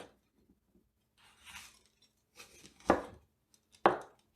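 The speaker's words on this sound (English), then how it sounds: "I'm going to switch to my chef's knife. Go ahead and chop off the ends." A chef's knife chops through the ends of a bell pepper on a cutting board, giving a few sharp, close, separate thunks with soft scraping between them in a quiet kitchen.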